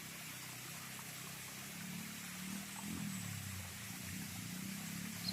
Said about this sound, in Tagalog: Sobrang lakas ng tubig dito.